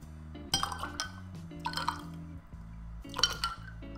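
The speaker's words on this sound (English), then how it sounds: "Then you stir well." Tomato juice hangover cocktail with lemon juice, Worcestershire sauce and Tabasco being stirred in a glass: a few light clinks and liquid swishes in short bursts, close and fairly quiet, with no talk.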